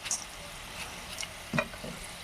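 Dal moth lentils frying in hot oil over a low flame give a quiet, steady crackle, with a slightly louder sizzling burst near the end.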